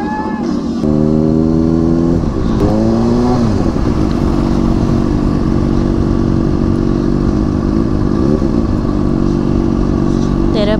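Honda CBR superbike engine running close by, loud and steady, with rising revs and gear-shift pitch sweeps early on before settling into a constant drone; a voice talks over it.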